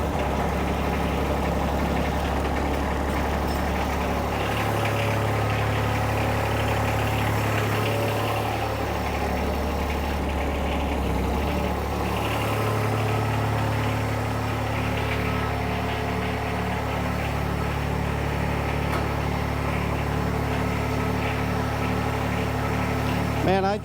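A car engine idles with a steady low rumbling drone that holds for over twenty seconds, close and unchanging.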